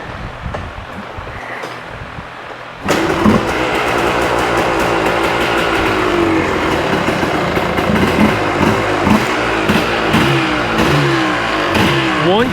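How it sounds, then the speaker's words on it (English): A Yamaha Tri-Z 250 two-stroke engine, still on choke, catches on a single kick after near-quiet and then runs close and loud with a steady, rattly, pulsing buzz. "One kick, she fires right off."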